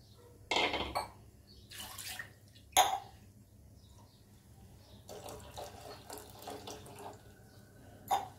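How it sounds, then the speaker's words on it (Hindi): A glass of water poured into a cooking pot while making bottle gourd soup, heard as a few bursts of splashing and running water with light clinks of the pot between pours, close and moderately loud. "एक ग्लास पानी ऐड करेंगे।"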